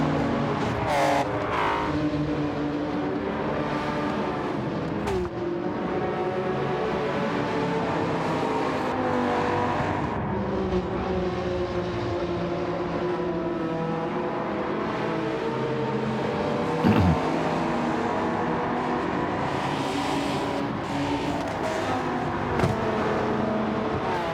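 Race cars including R33 Skylines on track in a Gran Turismo 7 endurance race, engines droning and revving as they pass and weave to warm their tyres, a continuous layered roar with occasional sharper accelerations and no talking.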